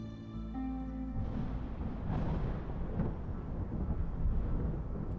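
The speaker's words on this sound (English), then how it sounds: "Ominous thunder noises." Ominous thunder rumbles in the video game Against the Storm, a deep rolling swell that builds after a quiet start and keeps growling loudly to the end, with no talking.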